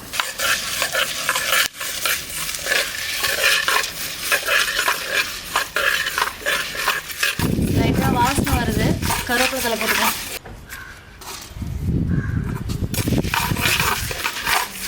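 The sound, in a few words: coriander seeds and dried red chillies being dry-roasted and stirred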